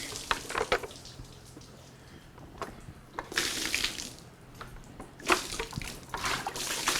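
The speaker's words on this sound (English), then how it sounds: "I'm just going to go ahead and I'm going to pour water on him, down his back," Water is poured down a dog's back, splashing and trickling nearby in several bursts, with a loud gush in the middle and another near the end.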